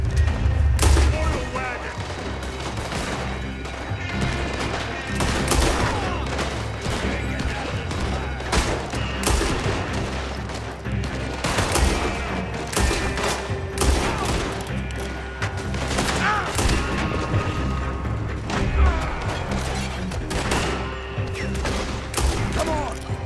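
Heavy gunfire in the Red Dead Redemption 2 video game, a relentless fusillade of overlapping shots and booms through a shootout, loud and dense throughout, with in-game voices talking over it.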